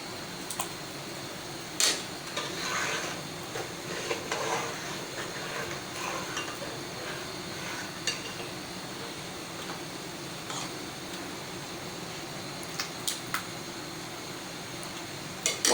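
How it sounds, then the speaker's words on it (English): A spoon stirs rice in milk for badam firni, a rice pudding dessert: faint, steady scraping and light clinks against the pot over a long stretch, with occasional sharper taps and no talk. "After adding rice, you have to stir it"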